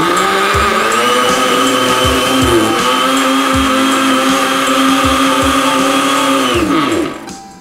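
A kitchen blender pulsing homemade BBQ sauce from scratch, a loud steady motor whine with repeated rhythmic knocks as the contents churn, winding down abruptly at the end.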